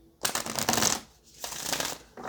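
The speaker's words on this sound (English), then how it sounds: "All right, let's get one more shuffle." Tarot cards being shuffled in two riffling bursts separated by a short pause, close and crisp with no talk.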